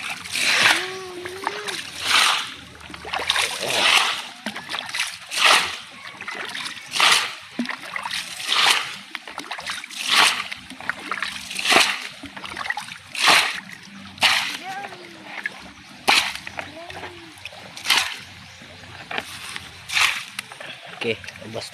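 Water is bailed out of a well in a steady rhythm, each scoop and toss making a splashy slosh about every second, while a person talks throughout.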